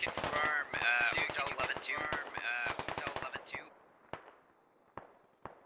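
Gunfire in the video game Squad: a rapid string of loud, close machine-gun bursts with a voice over it, thinning out into a few isolated distant shots.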